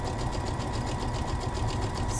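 A sewing machine runs steadily, stitching a seam on a strawberry costume with a continuous fast whirring buzz and no pauses.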